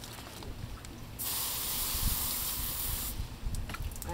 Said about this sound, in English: I like to rinse the fillet off.